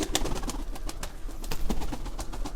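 Pigeons coo softly and steadily nearby, with faint rustling and outdoor background noise throughout.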